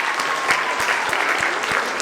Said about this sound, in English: big hand for Miss Elias in the back for running the sound and the lights for us